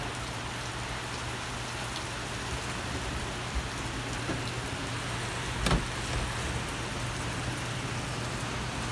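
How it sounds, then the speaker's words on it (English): Heavy thunderstorm rain falls over Bolivar, West Virginia, a steady broadband hiss of downpour at moderate distance with a faint low hum beneath and one brief sharp crack midway; no talking. "is that just the freak rain?"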